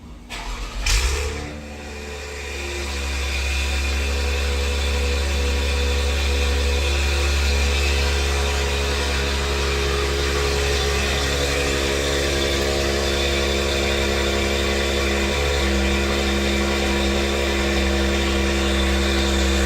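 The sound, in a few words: Acura TLX Type S engine cold start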